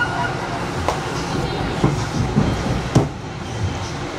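A Budd M2 Metro North train rides the rails through Fairfield, Connecticut, with a steady interior rumble and a few distinct clicks and clunks from the wheels, heard from inside the car.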